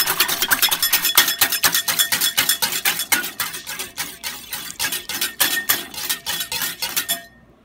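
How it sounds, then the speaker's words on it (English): Rapid metal whisk strokes clatter against a bowl while beating egg white for pancake batter, a steady bright clinking rhythm of roughly two strokes per second, close and fairly loud, stopping abruptly near the end. "as I whisk it, it now becomes a homogeneous mixture"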